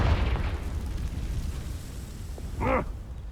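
In Hogwarts Legacy, a Confringo blasting spell bursts with a heavy, low rumbling boom that fades out, followed by a short bright magical whoosh.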